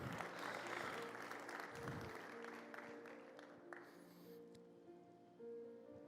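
Congregation applause during a church service, with a burst of clapping that starts dense and thins out over several seconds while a voice and background sounds continue underneath.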